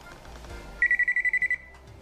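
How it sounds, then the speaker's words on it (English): An electrical voltage tester, held to a hot black wire while wiring a Minka Aire ceiling fan, gives a rapid series of about eight short, loud, high-pitched beeps in a steady rhythm lasting under a second, over quiet room noise. "Go ahead and use your tester to determine which wire is hot."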